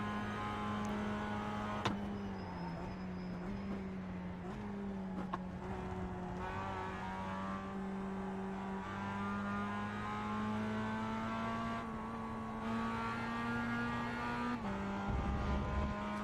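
Mazda MX-5 Cup race car in the iRacing video game during qualifying, with a steady, droning engine holding a near-constant pitch, a brief shift and occasional tire noise, alone without talk.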